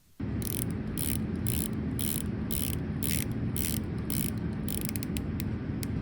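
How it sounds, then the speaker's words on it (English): The grooved coin-edge bezel of an affordable dive watch is turned, giving a steady, evenly spaced run of small ratcheting clicks close up over a constant loud background noise. "the bezel that uses a classic coin edge with nice grooves that make it easy to rotate"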